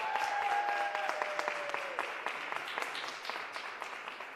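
An audience at a swing dance event claps steadily, with a brief whoop and high voice rising early, the applause thinning gradually toward the end.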